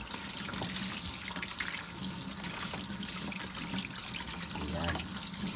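Tap water runs steadily over about a kilo of pork belly being rinsed for oven lechon, a continuous close splashing wash with no talk.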